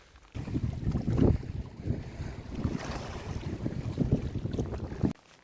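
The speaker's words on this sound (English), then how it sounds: "Gentle lapping from the boats." Water laps gently against boats moored by a pier off a pebbly beach on the Isle of Wight, a soft continuous wash heard close by, partly blurred by wind buffeting the microphone.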